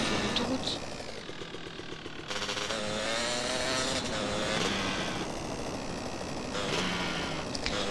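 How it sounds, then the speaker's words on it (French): A motorcycle cruises along a highway in GTA San Andreas, its engine droning at a steady mid pitch with a few shifts in tone as it holds speed. "Maintenant, on va faire un petit test de la moto sur l'autoroute."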